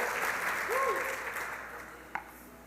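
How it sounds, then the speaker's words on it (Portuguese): A church congregation applauds during a sermon, a steady wash of clapping that fades gradually as a voice rises briefly over it, with one sharp clap near the end. "Dê um aplauso ao Senhor, porque Deus é bom."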